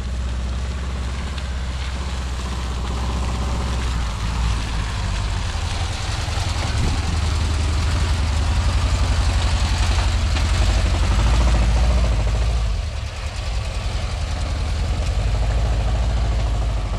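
A vehicle engine revving and straining on the slick, muddy BR-319 highway, a steady low rumble that swells and holds loud throughout, close by with no talk.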